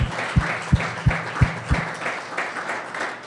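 A church congregation applauds during a Spanish-language sermon, with rhythmic clapping that has several strong, evenly spaced claps standing out over a steady background of applause.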